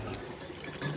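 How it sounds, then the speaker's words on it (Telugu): Water sloshing and trickling as three cups of rice are washed in a rice cooker pot, a soft, continuous close-up splashing with no voices. "అందులో వాటర్ వేసి 2-3 టైమ్స్ బాగా వాష్ చేసుకున్నాను"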